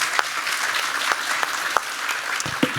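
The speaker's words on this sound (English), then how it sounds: "please give a round of applause to our speakers" An audience at a conference session on a just transition for workers and communities gives the speakers a round of applause: a continuous wash of many hands clapping, moderately distant, with a few sharper individual claps standing out.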